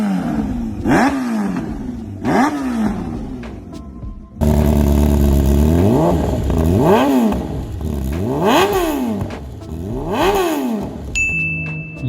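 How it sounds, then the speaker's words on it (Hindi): A powerful superbike fitted with an aftermarket exhaust (Akrapovic, Yoshimura or Arrow) blips its throttle in repeated sharp revs, each climbing and falling quickly, the later ones louder and more aggressive with a raspy crackle. "एक high quality after market exhaust का कमाल एक पावरफुल सुपर बाइक के साथ ही दिखता है।"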